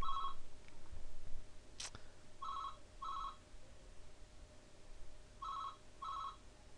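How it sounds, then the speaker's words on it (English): A telephone rings in repeated paired electronic trills separated by pauses, moderately loud in a quiet room, with a short click partway through and no one speaking. "Apologies here for this phone call. Just let that ring out."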